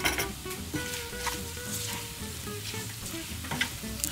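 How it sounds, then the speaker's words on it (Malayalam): Kerala-style beef fry sizzling steadily in a pan with a pinch of asafoetida added, a continuous close frying crackle with occasional stirring clinks, no voices. "ഇനി കുറച്ചുകൂടി നമുക്കൊന്ന് ഫ്രൈ ആക്കി എടുക്കണം"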